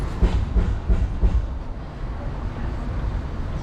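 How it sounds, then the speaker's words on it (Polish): An old tram runs on its rails in Tampa, rumbling with a few rhythmic low thumps from the wheels early on, then settling into a steady, moderately loud rolling drone with no voices. "Stary tramwaj."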